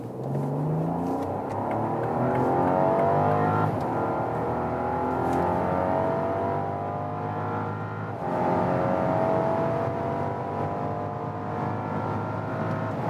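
A Rolls-Royce Cullinan Black Badge SUV with 600 horsepower and 2.7 tons accelerates hard from 30 km/h, its engine rising steadily through the gears with a smooth, loud, sustained roar heard from inside the cabin.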